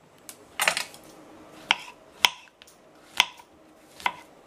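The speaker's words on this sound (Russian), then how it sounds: "И тем временем 600 грамм шампиньонов режу." A knife slicing champignon mushrooms on a cutting board, sharp separate chops landing at an uneven pace, close and crisp against a quiet background.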